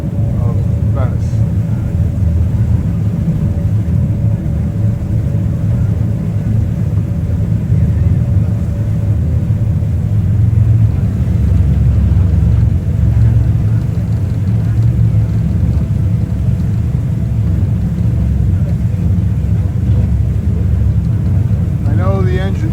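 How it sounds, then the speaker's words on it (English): A boat engine rumbles loud and continuous on the Grand Canal in Venice, a low steady drone lasting throughout, with a person talking over it. "I know the engine makes a lot of noise"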